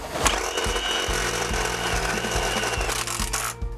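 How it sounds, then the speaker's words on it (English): A retaining screw driven into a roof-mounted sail track with a power driver, a loud continuous motor whine with evenly spaced ratcheting clicks, close and without speech. "we're just going to put a retaining screw in there"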